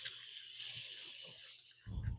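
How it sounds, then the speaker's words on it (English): Water runs from a kitchen tap while oily hands are washed, a steady hissing stream that shifts partway through and ends with a louder splash, close and without talk. "I'm going to give my hands a little bit of a wash because they've got a little bit of oil on them"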